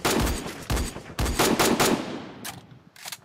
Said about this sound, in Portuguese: Tem trocação de tiro aqui no número 6.